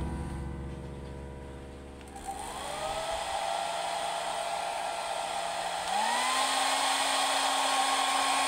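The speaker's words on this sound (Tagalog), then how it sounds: "gumamit ako ng hair dryer para pan-testing" A hair dryer whirs steadily and loudly up close, its motor pitch stepping up twice as the setting changes, running alone with no voices, powered by a 1 kW off-grid solar power system.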